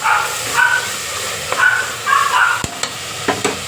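A few short dog barks, some distant, break through the steady sizzle and stirring of vegetables cooking in a hot tempering pan.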